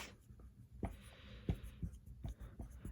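Pen or pencil scratching across paper in short strokes and taps, close and fairly quiet, as vectors are written out by hand.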